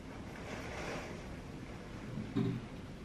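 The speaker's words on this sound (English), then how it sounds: "That's the wind and the rain hitting against the side of the house" Hurricane Ian wind and rain beat steadily against the side of a house, a dense, constant rushing roar with a brief louder gust thump near the end.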